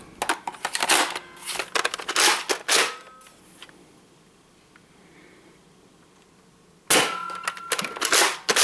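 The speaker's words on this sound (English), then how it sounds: "Just pressing each round into the top of the magazine." Foam rounds are pressed one by one into the top of a Nerf Rival Apollo XV-700 magazine, giving clusters of sharp plastic clicks and snaps, close up, with a quiet gap partway through.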